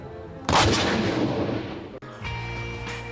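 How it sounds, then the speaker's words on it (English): A single loud Victorian cannon blast at Crown Hill Fort, Plymouth, booms out and rolls away into a long decaying rumble, followed by a lower steady background hum. "demonstrating cannon firings following the exact drill of the day"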